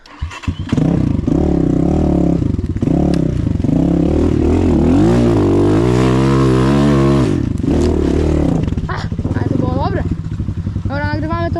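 A motorcycle engine revs loudly up close, its pitch swooping up and down as the rider pulls away in first gear, then rises again in fast sweeps, with voices talking over it.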